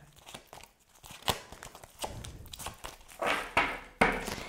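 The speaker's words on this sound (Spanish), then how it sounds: "Las tengo que barajar así las cartas, son grandísimas" Large, stiff tarot cards are shuffled and riffled with crinkly, slapping bursts that grow louder toward the end; no voices.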